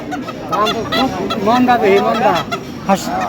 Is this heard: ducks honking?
yes